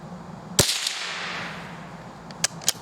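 Winchester .22 HV HP rifle rounds, Xpert and Super X, fired outdoors: one sharp crack followed by a faint echo, then two quicker, softer shots close together near the end.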